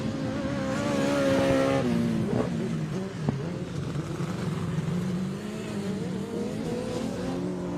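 Grasstrack racing sidecars roaring through the final lap and into a corner, engines revving loud and continuous with rising and falling pitch as the outfits pass, heard from trackside.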